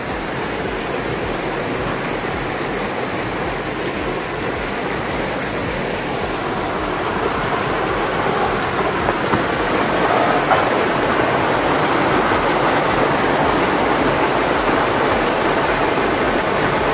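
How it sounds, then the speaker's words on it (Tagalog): Flooded creek with rushing high water: a loud, unbroken roar of churning water that holds steady from start to finish, with no talking. "grabe kabaha. Abot din ang tubig o."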